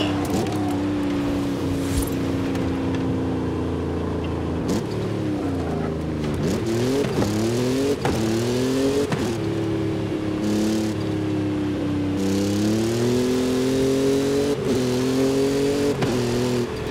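A car engine in the Forza Horizon 5 racing game revs continuously, its pitch rising and dropping repeatedly through gear changes and drifts, loud and steady throughout.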